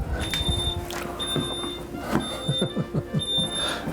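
Kitchen appliance buzzer sounding in repeated steady electronic beeps, loud and close, with clattering and brief voices around it during Christmas breakfast preparation.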